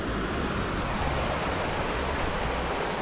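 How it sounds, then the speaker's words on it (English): A stream flows steadily along a mountain trail in the Black Hills of South Dakota, its broad, constant rush of water close and even throughout, with no voices. "Beautiful stream coming through here though."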